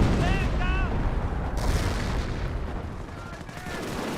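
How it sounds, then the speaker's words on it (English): Artillery fire in the Company of Heroes 1 strategy game, a dense rumbling barrage of booms and blasts with brief whistling shell sounds, loud and continuous, fading slightly toward the end. "Oh, we got some artillery rating on in."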